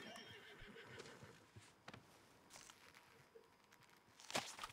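A horse in the video game Red Dead Online gives a soft, faint whinny, with quiet hoof shuffling and ambient outdoor game sounds, ending in a brighter burst near the close.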